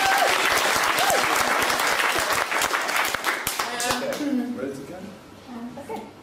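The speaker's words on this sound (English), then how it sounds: "Let's give you a round of applause for a second" A round of applause from an audience at a sustainability event: loud, dense clapping with distinct hand strikes that thins and fades over several seconds while voices start talking as it dies away.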